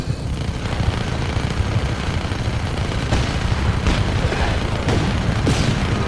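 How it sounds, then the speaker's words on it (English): A steady, dense roar of rumbling booms from Just Cause 3 gameplay, with a few sharper bursts cutting through, loud and continuous like a barrage of distant blasts. "Explosions. Plenty of explosions."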